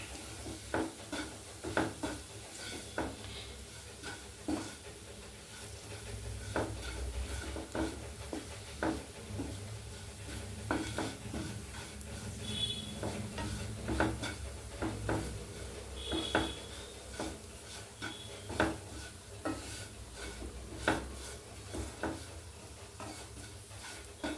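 Beef with stone-crushed black pepper is stirred in a pan, with repeated scraping strokes over a soft, continuous sizzle at close range, moderately quiet throughout.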